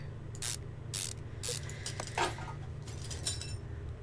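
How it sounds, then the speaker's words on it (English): Brake pads and a brake caliper come off a car in the video game Car Mechanic Simulator 2015, heard as a series of short mechanical clicks and ratcheting bursts over a steady low hum. "now we're going to do the brake pads. We're going to do the brake caliper"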